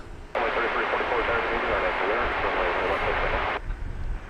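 A Qantas jet airliner bound for Sydney lines up for takeoff on a DFW Airport runway at night, a steady broad engine roar that starts abruptly, holds evenly for about three seconds, then drops away.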